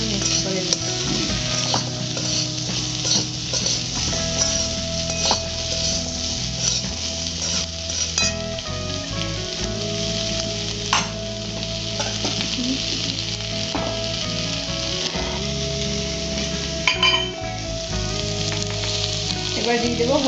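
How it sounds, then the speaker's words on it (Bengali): Coriander powder, cumin and salt being stirred and fried in a pan for paneer samosa filling, with a steady sizzle and repeated scraping strokes of a spoon against metal running throughout, close and fairly loud. "এর মধ্যে আছে ধনের গুঁড়ো, জিরে আর হচ্ছে নুন। ভালো করে মিক্স করে নেব।"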